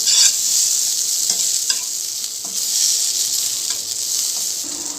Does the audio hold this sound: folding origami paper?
no